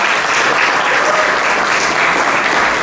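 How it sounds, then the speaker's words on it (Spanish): Warm, sustained applause fills a forum hall for Isabel Orellana, a dense and even wash of many hands clapping with no talk over it. "Le damos un nuevo fuerte y caluroso aplauso a la máster Isabel Orellana"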